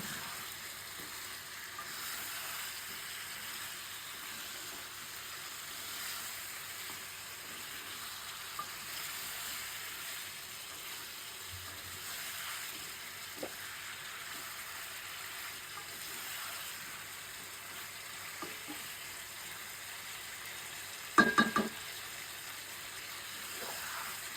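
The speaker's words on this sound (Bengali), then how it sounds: "এখান দিয়ে দেবো মিষ্টি কুমড়া মিষ্টি কুমড়া দিয়ে কষিয়ে নেবে" Pumpkin fries in a pan with cooked spice paste for a hilsa fish curry, a faint steady sizzle and hiss with occasional soft stirring taps and a brief louder clatter near the end.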